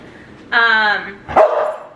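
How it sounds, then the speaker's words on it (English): A dog gives two close, loud barks in quick succession, the first a sustained yelp and the second sharper. "Excuse the dog in the background."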